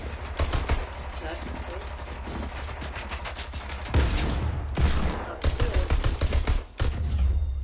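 Fortnite gunfire rattles in rapid, dense bursts almost nonstop, loud and close, with a few short breaks, while players talk over it.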